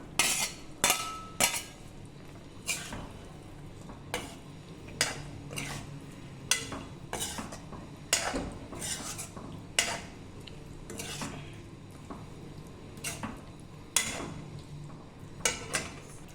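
A spoon clanks and scrapes against a kadai as fried capsicum and onion are stirred into kadai paneer, in a steady run of sharp metallic knocks about once a second, close by, with a soft sizzle underneath and no voices.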